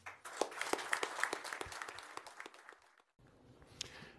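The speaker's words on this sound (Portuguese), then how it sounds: "Eu pediria também que aplaudissem o ex-ministro Pazuello" Audience applause for former Brazilian health minister Pazuello at an official contract-signing ceremony: brisk, moderately loud clapping from a crowd that fades out after about three seconds, with a quieter murmur of room noise at the end.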